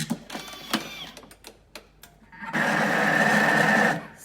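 A Thermomix whirs briefly as it mixes salad with dressing: a steady motor hum lasting about a second and a half, preceded by scattered clicks and handling taps.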